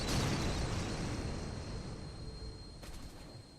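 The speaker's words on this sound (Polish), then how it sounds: "coś wybuchło" A loud, rumbling blast in the video game Stranded Deep fills the scene from the start and slowly fades, with a sharp crack near the end; no talking.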